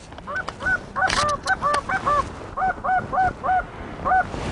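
Canada geese honking over a hunting spread in Lancaster, a flock of calls repeating in quick bursts, fairly close and loud, with no talk.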